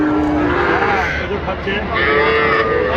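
At a cattle market in Ambari, Sahiwal bull calves give long, drawn-out moos close by, overlapping with people talking and the general bustle of the market.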